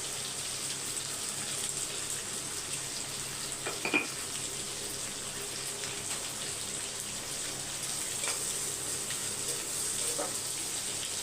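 Small onions sautéing with salt in a pan for a mutton curry feast, a steady close sizzle and crackle running throughout, with a few brief louder pops.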